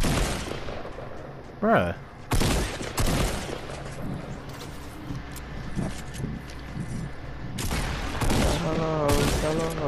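Gunfire in a Fortnite match cracks out in sharp bursts, several loud shots spaced across the scene amid game noise, while a player talks and briefly exclaims over it.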